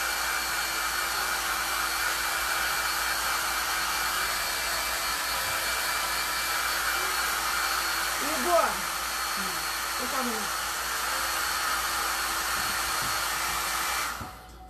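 A hair dryer runs steadily and close for the whole stretch, drying freshly applied washed-patina paint on a craft remote-control holder, with a brief faint knock partway through before it cuts off at the end.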